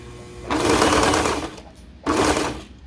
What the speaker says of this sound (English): I'm going to go ahead and serge just enough so that the needle goes into the fabric